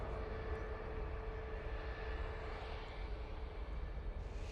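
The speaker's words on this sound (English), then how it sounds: "Next arrival is in view now. Looks like a Ryanair 73." A Ryanair Boeing 737 airliner arrives at Manchester Airport, heard as a constant, broad jet roar with a steady engine whine that holds level throughout.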